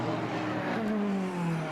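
Formula BOSS race cars at the Mondello Park circuit in Ireland, including a GP2 car, passing by with a sustained engine whine whose pitch glides downward as the cars pull away at moderate distance.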